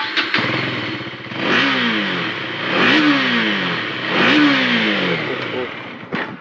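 Motorcycle exhaust revved hard three times in succession, each rise swelling loudly then falling away, with a short clatter at the start and end and no talk over it.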